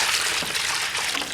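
Water poured into rapid set mortar mix gives a brief, steady, close splashing hiss.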